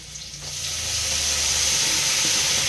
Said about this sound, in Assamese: কুন্দুলিটো অলপ ভাজি পিঁয়াজ কলি দি দিলোঁ।